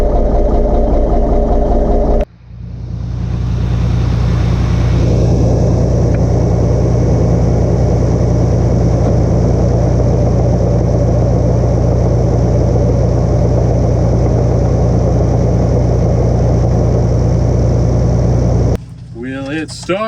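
Diesel engine of a 1984 Kenworth C500 truck, started after sitting 20 years: a short cranking burst, then a catch and a loud, steady low rumbling idle that runs for many seconds, ending in a brief abrupt noise.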